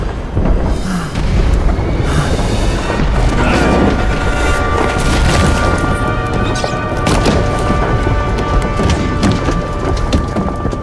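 Icarus goes down in a crash in Nobody Wants to Die, a loud sustained rumbling roar of deep booms and heavy crackling noise that fills the whole scene, thick and continuous like a violent storm.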